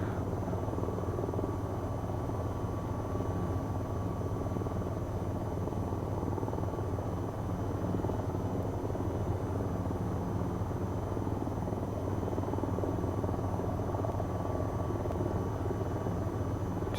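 An AH-94 attack helicopter in the VTOL VR flight game sounds from the cockpit over a city, giving a continuous, dense rotor and engine drone with a steady low thrum and faint high whine that holds at an even level throughout.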